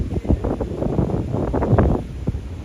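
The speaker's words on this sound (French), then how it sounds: "Parce que là vous entendez le vent." Gusty wind buffets the microphone in uneven bursts, a rough low rumble with a faint steady high whine behind it.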